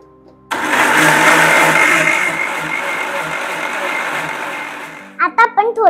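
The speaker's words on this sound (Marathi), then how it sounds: "आपण हे मिक्सर मध्ये फिरवून घेऊयात." A mixer grinder whirs loudly as it blends mango lassi with sugar and saffron, starting abruptly and running steadily for about four and a half seconds before winding down, after which a voice speaks.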